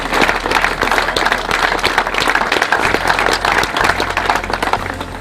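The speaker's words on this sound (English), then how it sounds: "Give everyone an applause on that." Audience applause at a groundbreaking ceremony for a 24-man dorm: a dense, steady wash of clapping from a gathered crowd that carries loudly for about five seconds, with a low hum beneath.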